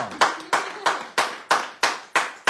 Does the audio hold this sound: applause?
yes